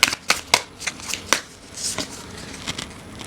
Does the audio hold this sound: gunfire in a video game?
no